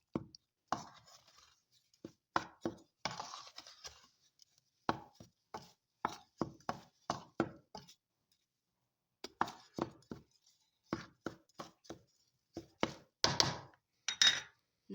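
A utensil knocks and clinks rhythmically against a bowl while dry ingredients for a yoghurt cake are mixed: close, crisp taps in quick irregular bursts separated by short pauses.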